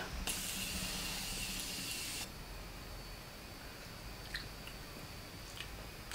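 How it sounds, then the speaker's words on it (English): A short, close hiss of a fine setting mist sprayed onto a face, lasting about two seconds, followed by quiet room tone with a couple of faint taps. "I'm gonna spray my face with my Morphe Continuous Setting Mist."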